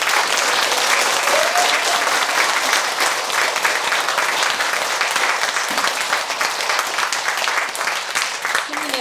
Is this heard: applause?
yes